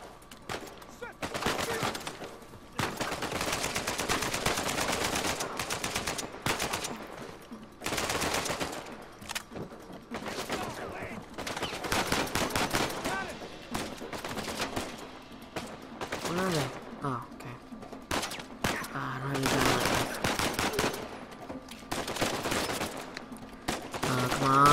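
AK-47 gunfire in Uncharted 4 rattles in repeated loud bursts and rapid volleys across a combat scene, with brief gaps between strings of shots and occasional talk mixed in.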